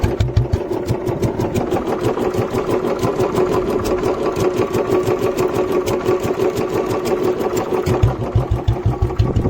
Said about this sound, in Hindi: लेकिन एक बार आवाज़ चेक करो इसके इंजन में